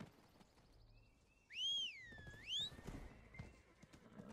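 A horse in a fantasy online game (Serendia region) gives two rising-and-falling whinnies over a soft rhythmic clatter of hooves, fairly clear against a quiet background.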